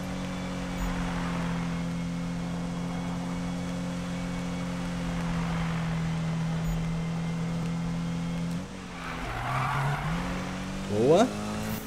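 A car in the video game Need for Speed (2015) holds a steady engine drone while drifting, then pitches up and shifts near the end with a brief squeal of tires.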